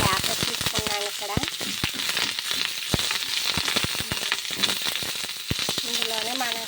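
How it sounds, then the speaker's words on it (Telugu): Tender moringa leaves and toor dal fry in a pan for a leaf chutney, making a dense continuous crackling sizzle with sharp pops throughout, and faint voiced tones briefly rising above it. "ఇందులోనే మనకి ఇలా ఫ్రై అవ్వాలండి. ఇలా ఫ్రై అవ్వాలి మునగాకు."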